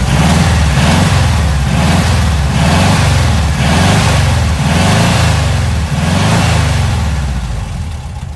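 A Frazer Nash car engine running on petrol alone in a garage, loud and close, with a steady rumbling idle that pulses in a regular rhythm roughly every half second and no talking.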